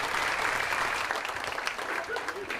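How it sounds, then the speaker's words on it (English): An audience at a county volunteer awards ceremony applauds, a dense continuous patter of clapping from a sizeable crowd in a hall, with a voice faintly present. "Give them another round of applause for them and for you and all the"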